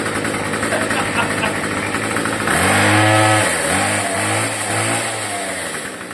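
A gigantic homemade two-stroke RC truck built on a Power Wheels Jeep body runs loud and close, its engine rising into a buzzing rev midway and then wavering up and down through several throttle swells.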